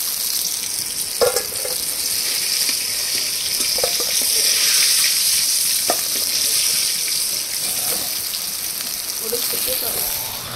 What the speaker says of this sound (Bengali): মাছগুলো এভাবে লাল লাল করে ভেজে নেব।